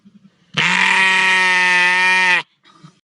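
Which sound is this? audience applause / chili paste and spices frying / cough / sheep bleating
sheep bleating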